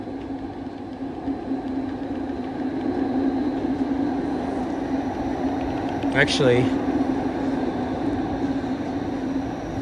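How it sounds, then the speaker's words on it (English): An eastbound Toronto subway train rumbles steadily into Eglinton Station with a low droning hum and a brief squeal of brakes; a voice speaks a word over it. "eastbound train pulling in."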